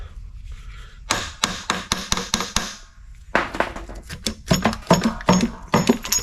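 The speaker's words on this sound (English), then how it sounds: "I guess we'll use a hammer because motor's no good" Repeated sharp metallic hammer blows on an engine cylinder head, fast irregular strikes in two bursts separated by a short pause, close and loud.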